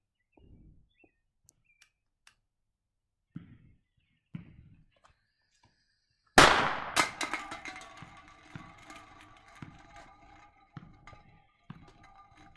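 An inch-and-a-half firecracker goes off between two cans, a single sharp close bang followed by clattering, rattling metal and scattered light knocks, with sparse small taps and thuds before the blast.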